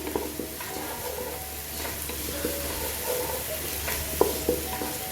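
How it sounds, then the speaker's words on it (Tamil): Vegetables for gobi fried rice sizzle steadily in a hot pan, with a constant frying hiss and occasional stirring clinks, no voices. "இது நல்லா வதங்கட்டும்."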